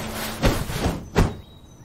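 A door opening in a house, heard as two short, fairly loud knocks or thumps spaced under a second apart over a low background hum.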